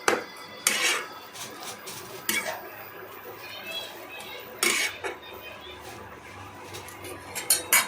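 A utensil scrapes and clinks against a wok as spinach is stirred for a bhetki fish oil spinach dish. The metallic bursts are close and come in intermittent strokes, with quieter pauses between them.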